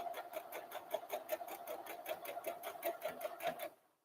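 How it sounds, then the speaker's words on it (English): A sewing machine stitches a seam on a little girl's dress, running in a fast, steady rhythm of evenly spaced needle strokes, close and clear, then stopping abruptly at the end. "We go forward and backwards to tie up our seam, and just carefully go around the outside edge"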